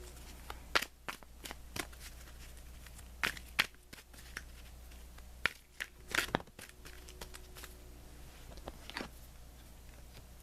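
Tarot cards are shuffled and riffled in short, crisp bursts with quiet pauses between, close and soft, with no talking.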